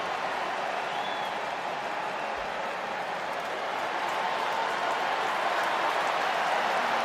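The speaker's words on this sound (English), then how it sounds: "The applause isn't so much for Bucani. It's for this man here." At a club friendly between Manchester City and AC Milan, football fans applaud as Christian Pulisic comes on as a substitute. A sustained, distant roar of stadium clapping and crowd noise continues steadily throughout.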